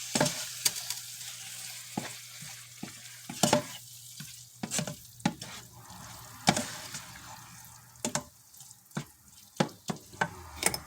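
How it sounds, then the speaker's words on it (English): Cheese sauce stirred in a pan on the stove for open-face cheese steaks, with a utensil scraping and clicking against the pan in sharp, irregular strokes over a soft sizzle, close and fairly quiet. "stir that cheese sauce around"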